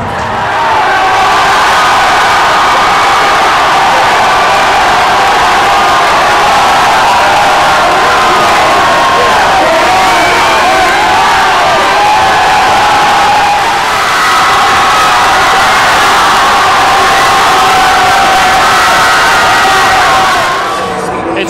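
A big crowd at a high school basketball game between Arapahoe and Heritage roars and cheers continuously, loud and dense with shouts and whoops throughout, voices mingling in the din.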